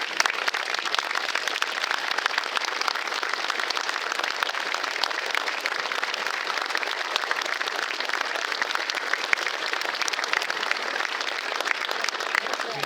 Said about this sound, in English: If we could just stand up and give them a round of applause